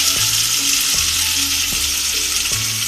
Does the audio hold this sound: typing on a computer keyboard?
no